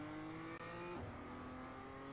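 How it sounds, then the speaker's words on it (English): BMW M2 race car in the iRacing sim, its engine tone holding steady and then dropping in pitch as it bogs down entering a turn, faint and continuous. "when I'm coming in, and then it sounds like the engine's just bogging down"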